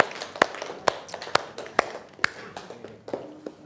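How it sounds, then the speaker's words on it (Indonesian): Classmates clap for a student group in a classroom: a string of sharp, evenly spaced hand claps, about two a second, fairly close, with faint room murmur between them. "Kasih tepuk tangan dulu pada teman kalian"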